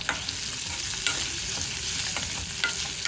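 Seasonings fry in a pan while poha upma is cooked, giving a bright, continuous close-up sizzle broken by a few clacks and scrapes of stirring, with no talking.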